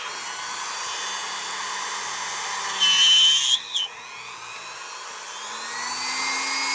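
A rotary tool bevels the edge around a peg hole in a plastic action figure's foot, a steady high-pitched whine that rises into a louder, brief burst of grinding near the middle before easing back to a quieter hum.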